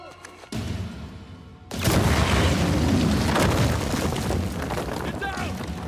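An explosion goes off in the video game Uncharted 4, a sudden loud boom after a short quiet stretch, followed by a sustained rumbling roar and crackling debris that fills the rest of the moment.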